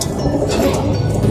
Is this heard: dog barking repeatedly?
no